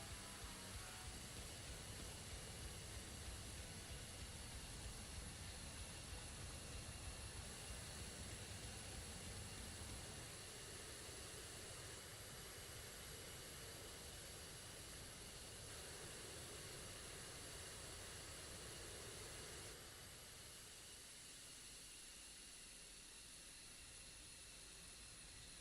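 Zeke fighter plane taxiing and taking off in a video game, a quiet, steady engine drone with hiss that shifts slightly in tone over a long stretch.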